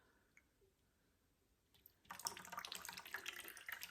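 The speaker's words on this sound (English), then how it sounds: "And then I'm gonna go ahead and water through a little bit of nutrients." Nutrient-laced water is poured onto potted rare houseplants, Monstera and Hoya, starting with a few faint drips and then becoming a close, steady splashing trickle for the final two seconds.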